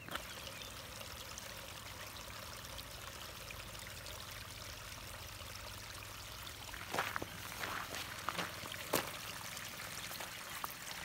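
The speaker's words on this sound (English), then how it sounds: "but I did find a little stream" A small stream flows in the foothills of Provence, a faint steady trickle and pour of water with a few louder splashing bursts partway through, no voices.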